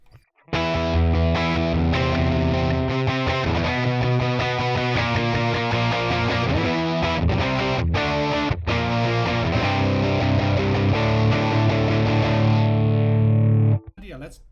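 Les Paul electric guitar played through a ToneX ONE amp capture, a loud, continuous distorted riff with steady chugging chords that runs almost the whole stretch and cuts off abruptly near the end.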